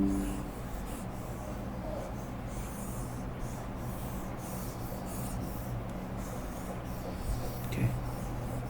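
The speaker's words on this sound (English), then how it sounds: "I'm gonna have to erase this real quick." An eraser rubs steadily across a board during a maths lesson, a continuous close scrubbing that runs throughout at even strength with no pauses.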